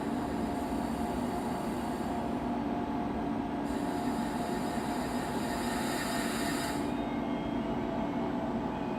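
Train braking to a stop in the Train Simulator video game, an Indian express service: a steady, dense rail rumble with faint high squeals from the wheels and brakes, fairly quiet and continuous throughout.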